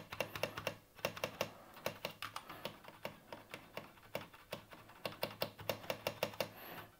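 Heavy, large keys clack on a pink mechanical keyboard in quick uneven bursts, crisp and close, with short pauses between flurries of typing and no talking.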